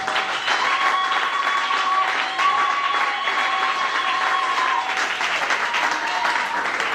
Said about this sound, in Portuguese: Aplausos todos para a glória de Deus.